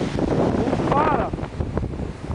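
Strong wind in a spring blizzard buffets the microphone with a steady, loud rushing roar, while a voice speaks briefly partway through.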